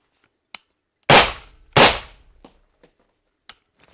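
Two loud suppressed gunshots from an APC fitted with a 3D-printed titanium B&T suppressor, each a sharp blast with a decaying tail, a second apart, followed by a few faint clicks and small knocks.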